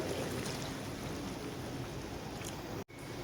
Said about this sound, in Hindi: 3 गिलास पानी के ऐड करेंगे।